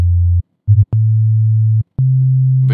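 A synthesizer plays pure, steady sine wave tones, loud and alone. Several sustained low notes are separated by short silences, with a brief pulsing blip partway through and a slightly higher tone at the end.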